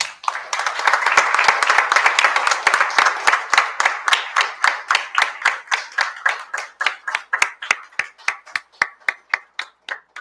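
An audience applauds a teacher with a dense burst of hand clapping that thins out into slower, spaced, rhythmic claps from fewer people, fairly close and without talk.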